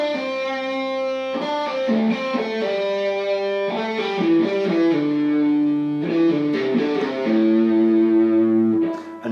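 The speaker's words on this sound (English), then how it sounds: "I'm just playing exactly the same pattern across the pairs of strings" Electric guitar, with distortion audible, plays a pentatonic scale pattern repeated across pairs of strings, a clear sequence of single notes moving steadily through the scale with no talking.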